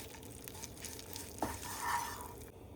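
Spices frying in a pan for Turkish eggs, a steady soft sizzle with brief scraping stir sounds, close and fairly quiet, with no talking.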